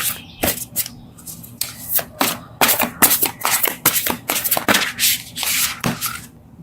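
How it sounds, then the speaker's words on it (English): Close, uneven shuffling of large oracle cards, a series of rough slides and soft slaps with brief pauses, no talking. "these cards are so big, they're hard for me to shuffle"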